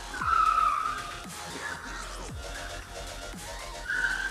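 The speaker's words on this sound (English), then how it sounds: "Hard braking for the final turn" A race car brakes hard into the final turn of a circuit, with tyres squealing and whining tones sliding downward as it slows. Quick passing engine sweeps sit over a steady background roar.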